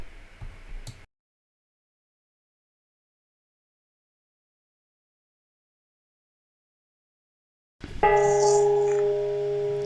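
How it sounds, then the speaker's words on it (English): A single deep, ominous bell strike in a video game rings out after a long stretch of silence, its tone hanging and sustaining to the end. "we hear this weird ominous bell tolling"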